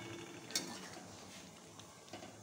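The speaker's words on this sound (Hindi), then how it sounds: "हम मसाले को ऐड कर लेंगे और इसे हम चला देंगे" Spices being stirred in a cooking pot, a faint scraping of a spoon against the metal with one sharp clink and soft sizzling underneath, brief and low in level.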